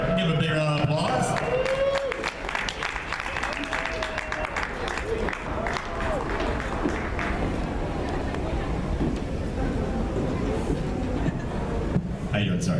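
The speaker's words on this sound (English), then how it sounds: "Give a big round of applause." Applause from the audience at the Geeknomicon 2014 convention opening ceremony: a burst of clapping and cheering that gradually gives way to people talking and a continuing murmur of crowd noise.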